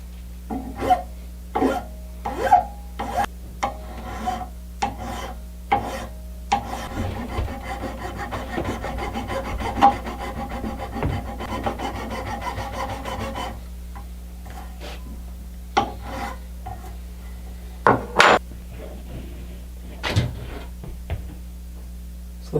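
Rasping file strokes ease over the back edge of a soprano ukulele nut, a string of short dry scrapes in uneven rhythm with brief pauses, then a steadier stretch of rubbing, close and moderately loud with no talking.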